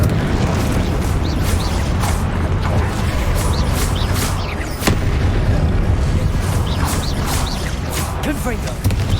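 Loud, continuous booming blasts from Confringo spell explosions in the video game Hogwarts Legacy, heavy rumbling impacts one after another, with a voice talking over the combat.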